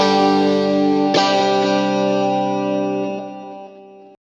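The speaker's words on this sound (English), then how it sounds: "Nice stereo chorus. Bit of delay. And also then a reverb." A sustained clean electric guitar chord shaped in Two Notes Genome software with stereo chorus, delay and reverb rings out, a second strum joining briefly before the wash decays and cuts off.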